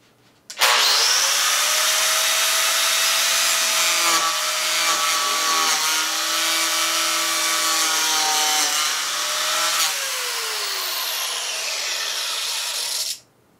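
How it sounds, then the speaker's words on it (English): An angle grinder fitted with a toothed saw blade attachment cuts into wood with a loud, steady high-pitched whine lasting over ten seconds, its pitch dipping slightly under load before it stops abruptly. "you can only cut into there maybe like an inch deep before you start hitting the side of the grinder"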